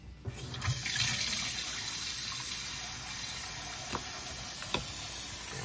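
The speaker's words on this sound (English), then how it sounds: "Let's turn the water back on and we'll test it" Water runs steadily from a repaired kitchen faucet after being turned back on, a continuous close splashing hiss with a few small knocks and clinks, no talking.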